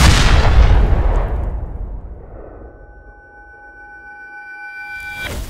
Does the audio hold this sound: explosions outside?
yes